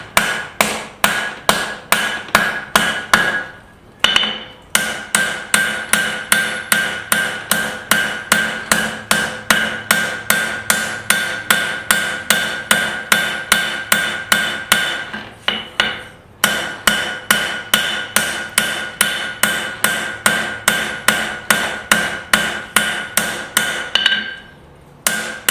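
Steady, loud hammer blows ring out on a scrap steel knife blade being forged and thinned, a fast even rhythm of sharp metallic strikes broken by two short pauses.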